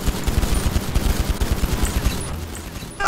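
Rapid automatic gunfire in GTA 5 during a chase, dense bursts of shots rattling continuously for about three seconds, loud and close with no talking.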